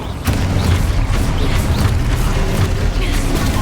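A Confringo explosion spell going off in the video game Hogwarts Legacy, a heavy booming burst with rumbling low-end and crackling debris, loud and close, with a voice briefly calling out over it.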